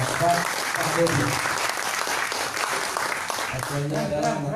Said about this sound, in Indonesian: Tepuk tangan buat Fad Pahdepi.